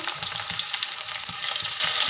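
Ground cumin paste frying with browned potatoes in a pan for a fish curry, a dense close hiss and crackle with quick stirring scrapes, growing slightly louder toward the end, no speech.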